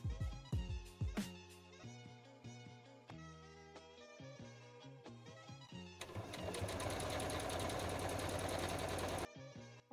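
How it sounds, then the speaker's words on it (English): A sewing machine stitches a men's shirt seam into a midi flounce skirt, first in short, halting runs, then a steady, fast, close mechanical chatter lasting several seconds before it stops abruptly. "I'm just going to stitch right down along those pins"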